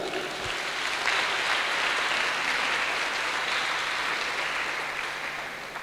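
A church congregation applauds in steady, dense clapping that holds for several seconds and then begins to fade slightly.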